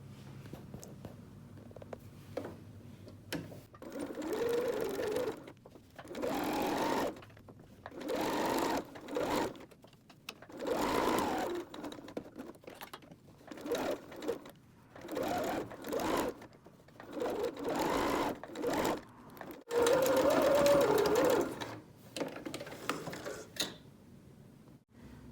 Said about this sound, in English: I'm going to sew around the edge using a 3/8 seam allowance.